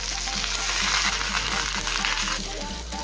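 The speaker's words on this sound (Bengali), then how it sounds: "বাকি রুটিগুলো ভেজে নেব।" Rotis fry in a pan over a low gas flame for paneer tacos, a steady close sizzle and hiss that eases slightly near the end, with a faint hum underneath.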